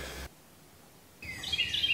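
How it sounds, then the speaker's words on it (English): Birds chirping outdoors, a brief burst of high, bright calls entering after a quiet pause, fairly faint and heard from indoors. "You hear the birds outside?"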